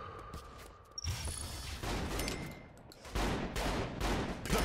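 Gunfire bursts in Saints Row 3, played in free roam, crackling in repeated volleys and rapid-fire clusters with loud impacts across the whole stretch, under game effects and no talk.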